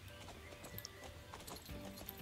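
Horses in a video game trotting with quick clip-clop hoofbeats, one whinny breaking in partway through, all close and fairly soft.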